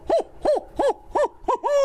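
A man imitates owl calls with his voice alone, a great horned owl and a barn owl: six evenly spaced, close, clear hoots in a quick rhythm with no other sound.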